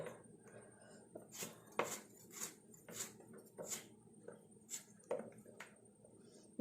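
A knife slices ripe lemons into rounds on a board for a lemon pickle: about a dozen soft, irregular cutting taps, close by, with no talking.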